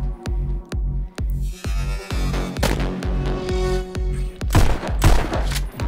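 Gunfire rings out in the VR rhythm shooter Pistol Whip, a regular beat of punchy shots over a thumping music pulse, loud and close, with no voices.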